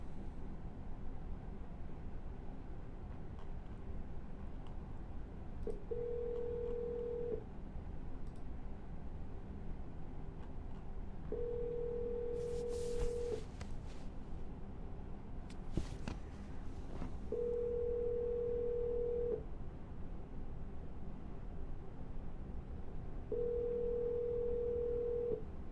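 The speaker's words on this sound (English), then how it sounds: "We're gonna dial one more time." A telephone call rings out after dialing: four evenly spaced ringback tones, each about two seconds long, over a faint, steady line hiss.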